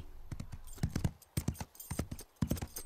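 Horse hooves clip-clop in an uneven trotting rhythm, a series of sharp close knocks with brief pauses, from a French-dubbed Horseland cartoon episode.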